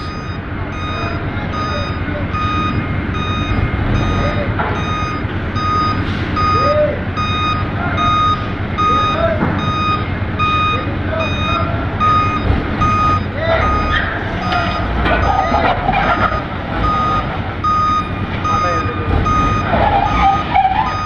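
A truck's reversing alarm sounds loud and close in a steady, evenly spaced series of beeps over a constant engine rumble, with a brief voice in the background.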